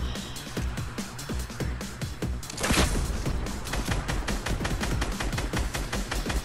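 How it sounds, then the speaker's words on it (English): Cannon fire and a barrage of gunshots in the video game Fortnite, with many sharp reports in rapid, uneven succession and one heavier blast partway through, loud and continuous throughout. "That was a cannon shot."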